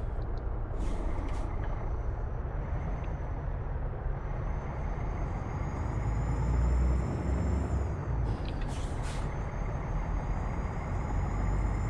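A heavy truck pulling a trailer in Euro Truck Simulator 2 accelerates gently on light throttle, its deep steady engine drone close and continuous, with brief hissy bursts of air near the start and near the end.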